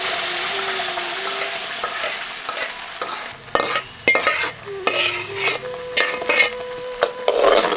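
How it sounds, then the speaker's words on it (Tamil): Grated apple being stirred in a hot kadai for halwa, a soft sizzle at first, then repeated scraping strokes of a spoon against the pan in an uneven rhythm, close and fairly loud. "இப்ப கடைஞ்சு வச்சிருந்த ஆப்பிளை அதே கடாயில ஊத்தி கிண்ட ஆரம்பிச்சிருவோம்"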